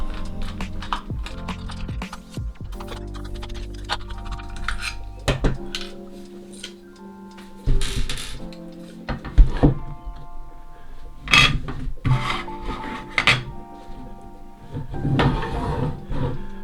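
Someone removes four screws from the LCD display on the handlebar stem of a Turboant X7 Pro or HX X8 electric scooter, making close, small clicks, taps and rattles of metal parts and a screwdriver on a hard surface.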